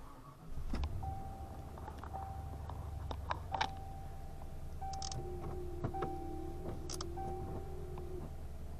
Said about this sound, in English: Started up here with the new wiper motor in, and I have the wiper blades on